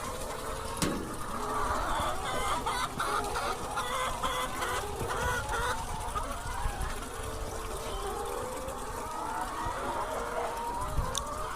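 Sonali layer hens cluck and murmur steadily throughout an enclosed commercial poultry shed, with a dense, continuous chatter and occasional sharper calls over a background hum.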